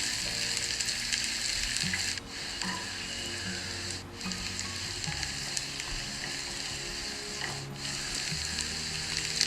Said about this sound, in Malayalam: ഇനി ഇതിലേക്ക് നമുക്ക് ക്യാരറ്റും ക്യാപ്സിക്കവും ചേർത്ത് ഒന്ന് നന്നായി ഇളക്കി കൊടുക്കാം.